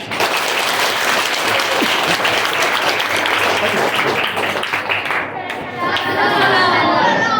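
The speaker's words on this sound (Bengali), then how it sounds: "সকলের জন্য আরেকটি হাত তালি" A group of people gives sustained, loud applause for about five seconds, most likely an audience at an event with children. The clapping then fades into lively children's chatter.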